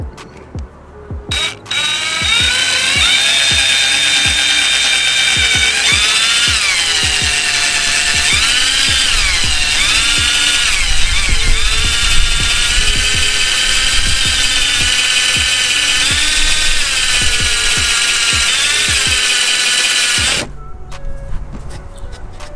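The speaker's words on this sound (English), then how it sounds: "I'll get back to y'all when I'm actually drilling those holes." A power drill whines steadily and loudly for about twenty seconds, drilling holes in a 5th-generation Camaro 2SS, its pitch wavering as it bites into material, then cuts off abruptly.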